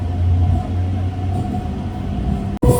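A passenger train pulls away from Vellore Cantonment station with a steady, loud rolling rumble and a sustained mechanical hum, briefly cut by a sharp dropout near the end before the noise resumes.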